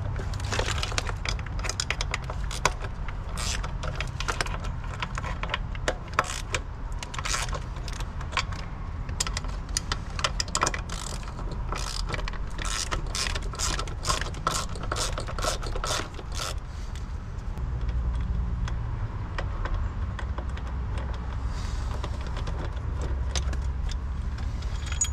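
Bolts come off the throttle body of a GMC Canyon 3.5, with repeated clicking ratchet strokes, metallic clinks and tool handling in a garage, close and intermittent throughout.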